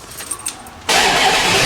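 Plymouth Barracuda engine, freshly assembled, cranks and catches at once, jumping from quiet shop background into a loud, steady running roar close by.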